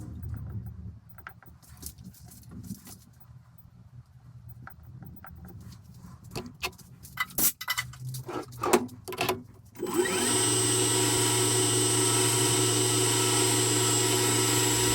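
A Myford Super 7 lathe machines the top cap of a steam engine. Quiet clicks and scrapes of setup come first, then the lathe starts and runs in a loud, steady whine with a constant hum.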